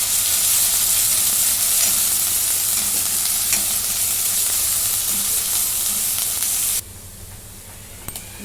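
Onion and ground masala sizzle and hiss steadily as they are stirred and fried in a pan, a continuous close frying sound with scraping that drops off sharply near the end.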